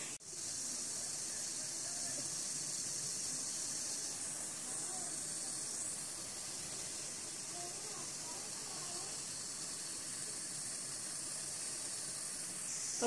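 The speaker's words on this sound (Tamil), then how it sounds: "இதை வந்து நம்ம இட்லி பாத்திரத்தில் வச்சு அவிச்சு எடுத்துக்க போகிறோம்." Sweet kolukattai dumplings steaming in an idli pot for Vinayagar Chathurthi, a continuous soft hiss of escaping steam with faint background clatter, heard alone with no talk.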